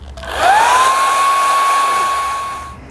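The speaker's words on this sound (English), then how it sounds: "we're going to apply a little bit of heat using a trusting hairdryer to raise the temperature back up to 32" A hair dryer blows warm air over tempered chocolate: a steady, close, loud whooshing hum with a thin whine that rises in pitch as it spins up, then holds level before easing slightly at the end.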